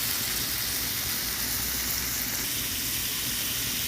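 Marinated chicken for biryani fries with onions in mustard oil, giving a dense, loud, unbroken sizzle and hiss close by, with no voices.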